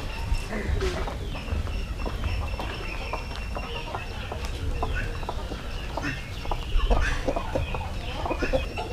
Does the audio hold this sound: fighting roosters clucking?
yes